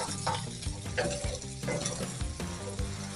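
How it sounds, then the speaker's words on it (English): Chopped sweet white onion and slivered garlic go into a pan of frying bacon, producing a steady, moderately loud sizzle and crackle, with soft stirring scrapes throughout. "I'm going to add that to the bacon."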